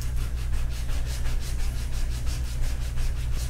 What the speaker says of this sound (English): we're just gonna sand that edge just a little bit